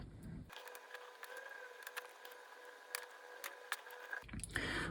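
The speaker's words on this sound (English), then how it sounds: "Let's put them together, assemble them." Rotring Tikky mechanical pencils being assembled by hand, quiet close clicks and small ticking snaps of parts threading and fitting together, with a few sharper clicks toward the end.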